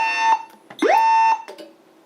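A voice evacuation fire alarm system sounds during a building test, producing loud electronic tones that sweep upward and then hold a steady pitch in repeated bursts with short gaps between them.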